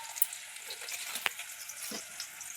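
Bottle gourd leaves fry in a pan with a soft, steady hiss, broken by a few small sharp crackles and a scrape, with no speech.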